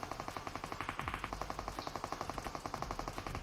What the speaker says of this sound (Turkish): Arkaya biraz mermi attım.